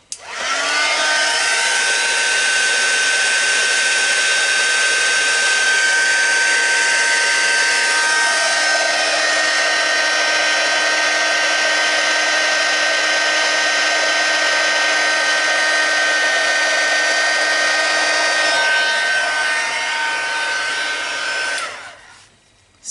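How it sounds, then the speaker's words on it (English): Heat gun blowing hot air onto applied lettering, a loud, steady whirring hiss that starts abruptly, holds close and constant for about twenty seconds, then cuts off. "once you've got the heat gun on here, that will blow away a lot of this that we're just loosening up"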